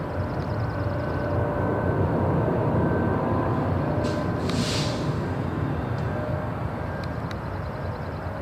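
A heavy jet approaching Seattle-Tacoma International Airport produces a loud, broad rumbling roar that holds steady throughout, with a few brief higher-pitched hisses over it and no voices.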